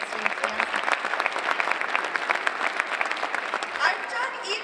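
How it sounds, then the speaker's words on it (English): A concert audience applauds a sixth grade band with steady, lively clapping, close and fairly loud for several seconds, with a few voices mixed in. "give them a round of applause"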